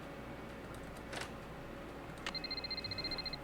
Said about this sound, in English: Get a phone call from Paula.